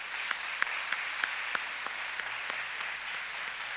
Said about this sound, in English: let's give a round of applause for our 4th grade speech meet runner-ups